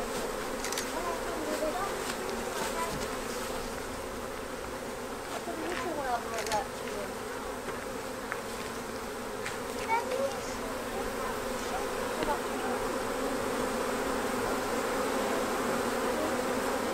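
A swarm of honey bees hums in the trees outdoors, a continuous dense buzzing with individual bees passing close by now and then; faint voices sit in the background.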